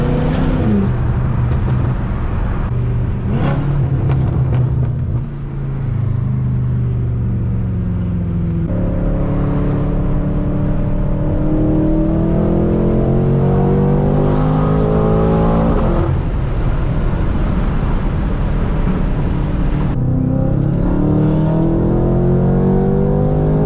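A BMW F10 M5 with a stage 3 tune pulls hard under sustained acceleration, its loud engine note climbing through gears with a steady turbo whine, recorded from inside the car with no talking.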